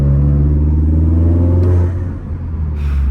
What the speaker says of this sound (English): I enjoy hearing the air intake way more than the downpipe for some reason.